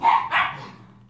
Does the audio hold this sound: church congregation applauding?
no